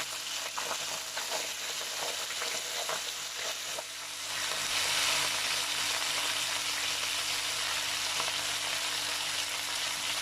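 Garlic fried golden brown in a pan, then fresh mint leaves added for mint rice. A close, steady crackling sizzle with stirring clicks turns into a louder, denser hiss partway through, with no talking.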